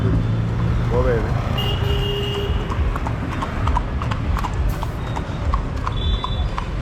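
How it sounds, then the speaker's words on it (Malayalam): A rider goes by on horseback in the morning, hooves clip-clopping steadily on the road close by amid traffic noise, while a voice talks over the scene. "ഒരാളിങ്ങനെ കുതിരപ്പുറത്ത് പോവേണ്."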